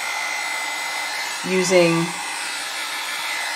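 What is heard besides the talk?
blow dryer drying alcohol ink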